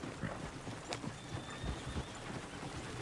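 Horse hooves clip-clopping in the open-world game Red Dead Redemption 2, a faint irregular trot of hoofbeats with no talk over it.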